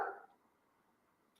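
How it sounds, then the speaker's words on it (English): A single short bark from a pet dog indoors, followed by a quiet room. "Like when the dog's barking, I can't think straight either."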